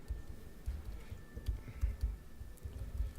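Fingers patter on a computer keyboard at a workshop session, a quick, light run of small key clicks under a low, steady room hum.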